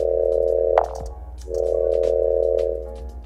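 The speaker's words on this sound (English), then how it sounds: "So now that I got like that cool tone that I like, then I put on a pipe resonator." A synthesized wook bass tone is run through a pipe resonator effect in Ableton, giving a sustained buzzy droning note that stops with a short pitch swoop, then resumes and fades with a resonant tail.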